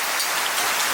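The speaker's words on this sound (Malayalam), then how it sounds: "ഭയങ്കരമായ മഴയാണ്. മഴ എന്ന് പറഞ്ഞാൽ സൗണ്ട് കണ്ടോ, ഭയങ്കര സൗണ്ടാണ്." A brief burst of heavy rain, a dense, even hiss of downpour close by with no voices.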